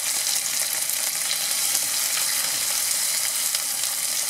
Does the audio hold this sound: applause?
no